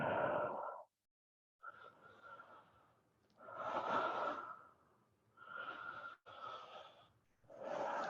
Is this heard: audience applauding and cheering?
no